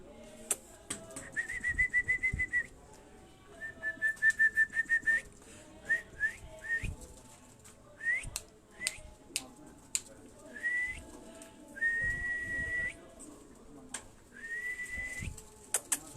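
Sialkoti-bred pigeons on a Rawalpindi rooftop, with repeated sharp whistle bursts and short trilling runs close by, rising and stopping in clusters over faint background murmur and low cooing.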